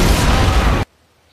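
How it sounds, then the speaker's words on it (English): A loud, broadband blast of a tank blowing up in the World War II video game The Saboteur, with heavy low rumble, holding for about a second and then cutting off abruptly to silence. "you can also blow up things like tanks that they are guarding"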